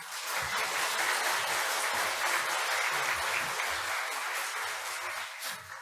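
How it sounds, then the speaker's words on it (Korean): A church congregation at an evening revival meeting claps to welcome a guest preacher, a sustained even ripple of applause from a large room, fairly soft and steady throughout. "박수로 격려하면서 우리 목사님 모시도록 하겠습니다"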